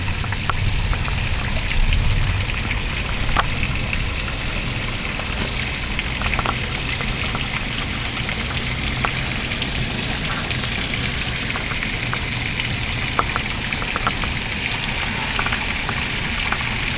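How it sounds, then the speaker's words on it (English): Heavy rain from Tropical Storm Fay pouring off apartment roofs in Belleview, Florida, a dense, loud, steady hiss and splatter that runs unbroken throughout, with no voices. "Just look at the rain coming off the roofs."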